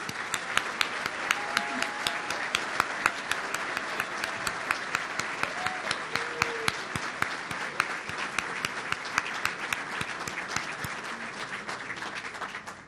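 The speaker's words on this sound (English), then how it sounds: "Please join me in a big round of applause for all of our winners tonight." Audience at an awards ceremony applauding the winners, dense sustained clapping from a large crowd that stays even throughout and tapers slightly at the end.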